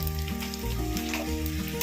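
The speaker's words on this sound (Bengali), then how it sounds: "হালকা ভাজা হয়ে গেলে এবার দেবো রসুন কুচি। রসুনটা ভাজা হয়ে গেলে দেবো আদা কুচি" Chopped garlic crackles and sizzles in hot oil for a spicy egg tadka, a continuous close frying hiss running under melodic background music for the whole short stretch.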